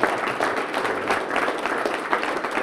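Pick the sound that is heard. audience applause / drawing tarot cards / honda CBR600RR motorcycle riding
audience applause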